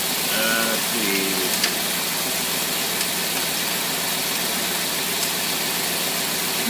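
A single-barrel carburetor engine runs steadily on a dynamometer at a light load, a constant near idle drone with a faint voice briefly over it.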